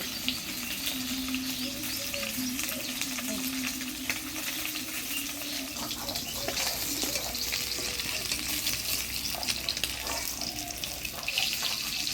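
Shol fish frying in a pan: a loud, continuous, close sizzle with faint crackles, running unbroken and without talk.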